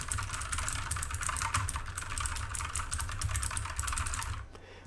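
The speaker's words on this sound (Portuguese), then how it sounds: "É um teclado Kumara da Redragon com switch Blue. Vamos ver quanto aqui do teclado ele está pegando." Rapid, continuous clicking keystrokes on a Redragon Kumara mechanical keyboard with blue switches, close and crisp, typing steadily before stopping abruptly near the end.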